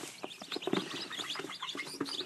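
Chickens in a coop where newly hatched chicks have just come out of an incubator, giving a busy mix of high chirps and clucks, steady and close, with no talk.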